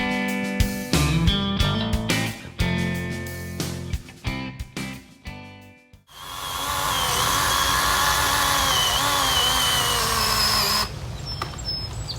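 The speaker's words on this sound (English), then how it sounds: "Well, I got the chainsaw stuck." Choppy bursts of tool noise and knocking give way to a loud, continuous battery chainsaw whine that holds for several seconds before stopping suddenly as the chainsaw gets stuck during brush clearing.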